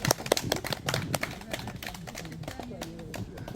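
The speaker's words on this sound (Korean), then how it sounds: "박수 쳐주시기 바랍니다." A group claps outdoors on a forest trail during a barefoot-walking meetup. Scattered, uneven handclaps sound from nearby, loudest at the start and fading as a voice talks over them.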